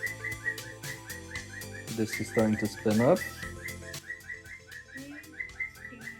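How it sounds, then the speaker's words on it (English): A pet bird whistles and chirps in quick, bright trills near a running PlayStation disc drive, the calls rising into a louder flurry mid-way while a person talks over them. "My bird is really happy."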